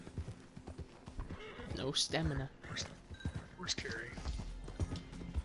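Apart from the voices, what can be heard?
horse hooves and whinny in the video game Red Dead Online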